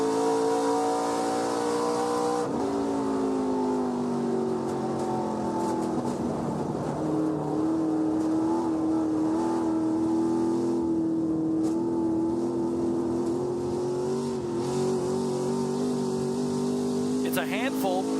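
Onboard engine of the ARCA Menards Series number 25 race car at the Illinois State Fairgrounds dirt track, a steady loud droning note that shifts pitch slightly, with a commentator talking over it.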